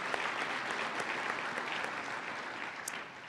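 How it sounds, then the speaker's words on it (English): A crowd applauds at an annual business meeting in Greater Iowa City, Iowa, a steady, moderately faint wash of clapping hands from many people that fades slightly at the end. "I also want to give a round of applause for Mary."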